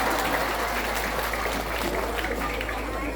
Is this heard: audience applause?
yes